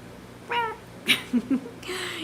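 A small quail gives a few short, cat-like meowing calls, close and fairly clear, separated by brief pauses, with a soft rustle or click between them.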